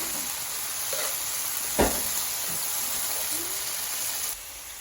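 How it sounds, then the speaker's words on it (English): Onions and peppers cooking down with balsamic vinegar in a dry pan, a steady soft sizzle with a single brief knock partway through. "I've turned the onions and peppers back on, just like I said, to get that final last caramelization with the balsamic vinegar"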